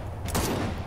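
A burst of rapid gunfire erupts in Gears of War 4, a dense crackling volley that swells suddenly and then holds as a steady roar, fairly loud with no voices over it.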